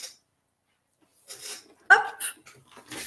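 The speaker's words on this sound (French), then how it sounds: "j'ai mon toutou qui pleure à côté" A small pet dog whimpers close by indoors: a short, high whine and a sharper yelping cry come in brief bursts after a quiet opening, with soft rustling and breathy noises between them.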